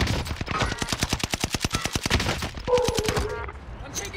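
Rapid gunshots crack in a steady, evenly spaced automatic string in a video game firefight. They are close and punchy, then taper off into scattered effects.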